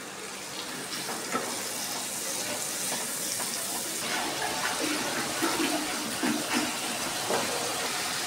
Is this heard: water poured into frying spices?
yes